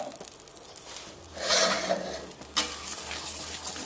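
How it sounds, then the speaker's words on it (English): A spoon stirs caster sugar into half-melted butter in a pan for brownies, making close, gritty scraping and rubbing strokes with a brief louder scrape near the end. "Give this a little stir."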